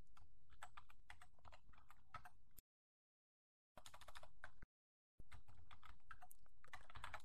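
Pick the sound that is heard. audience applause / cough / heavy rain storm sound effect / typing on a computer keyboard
typing on a computer keyboard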